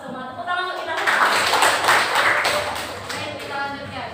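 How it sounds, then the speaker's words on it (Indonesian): Students clap in a classroom during a maths lesson, a brief burst of clapping with voices mixed in. "Tepuk tangan untuk kita."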